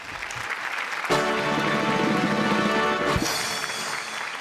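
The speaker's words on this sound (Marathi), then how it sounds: "मी पण उभं राहून टाळ्या वाजवतो" After a quiet opening, an audience at a Marathi comedy stage show bursts into a loud standing ovation for a performance. The sustained clapping swells over background music and then eases slightly.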